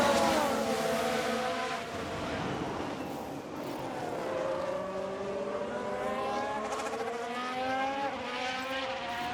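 Formula 1 race cars on track at the Canadian Grand Prix in F1 Manager 2022, engines whining and rising in pitch as cars pass, moderately loud, with several overlapping passes.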